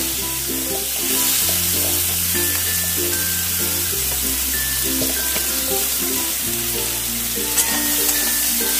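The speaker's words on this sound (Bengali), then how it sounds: "এবার কুচানো পেঁয়াজ দিয়ে দেবো।" Chopped onions fry in hot oil tempered with white cumin seeds, giving a steady loud sizzle with stirring and scraping throughout and no speech, amid faint background music.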